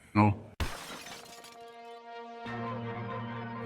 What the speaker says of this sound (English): Metal shrieked, glass shattered